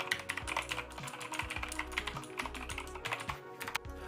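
Rapid clicky keystrokes on a Razer keyboard with macro keys, irregular bursts of sharp taps close to the mic, alone and fairly quiet with no talk.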